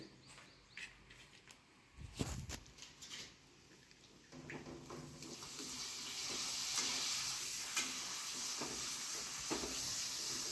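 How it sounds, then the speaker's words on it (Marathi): Papad deep-fries in hot oil, starting with a few clattering knocks and then swelling into a continuous crackling sizzle that holds steady; faint bird calls sound in the background. "मी 2 पापड तळते"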